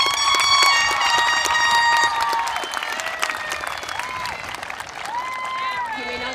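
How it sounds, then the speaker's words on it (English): Applause breaks out at a high school graduation ceremony, crowd clapping under cheers and whistles that fade gradually over several seconds. "Give them a round of applause."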